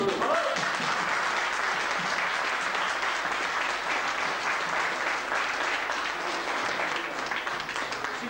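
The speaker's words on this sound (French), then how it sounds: "On l'applaudit." Audience applause for a theatre stage manager and his assistant at a company reception, a steady, sustained wash of many clapping hands lasting several seconds at moderate distance, with faint voices beneath.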